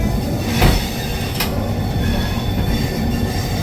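Rajdhani Express passenger train running on rails, a loud steady rumble of wheels with squealing and faint rhythmic clatter throughout, no voices.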